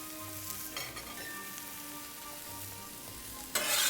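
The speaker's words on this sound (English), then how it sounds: "We got to get the eggs going before everything else burns." Eggs fry in a pan with a steady, close sizzle and crackle throughout, swelling into a louder burst of spitting near the end.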